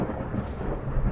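Stormy weather in the video game Fallout 4, a deep rumbling thunder roll over a steady hiss of rain, loud and continuous with no voices.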